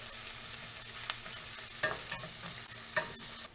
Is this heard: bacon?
yes